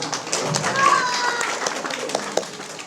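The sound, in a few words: children applauding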